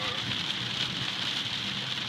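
Rain falls steadily, a dense, even hiss of drops that stays constant from start to end with no voices.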